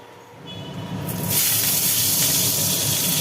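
Pointed gourd pieces slide into hot oil on an induction cooker. A quiet hiss swells into a loud, steady frying roar up close.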